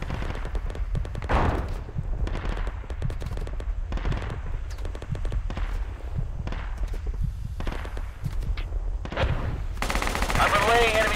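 Repeated bursts of rifle and machine-gun fire echo across hills in the military shooter Project Reality, loud sharp cracks arriving in irregular clusters over a constant low rumble, with a brief hiss near the end.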